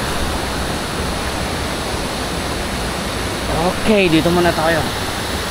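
A waterfall on a river deep in a forest gives a steady, full broadband rush that holds at one level throughout, with someone speaking briefly over it near the end.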